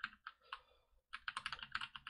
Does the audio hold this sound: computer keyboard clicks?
yes